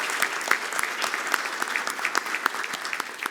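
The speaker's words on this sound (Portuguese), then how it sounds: "Uma salva de palmas." An audience at a formal installation ceremony applauds for a few seconds, a dense and steady clapping from a room full of people.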